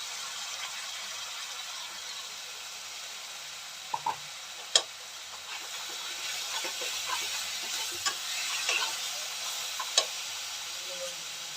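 Garlic, chili and ginger paste dropped into frying onions in a pan for a prawn malai curry, a loud continuous sizzle and hiss with a few sharp spatula knocks and stirring scrapes, no speech.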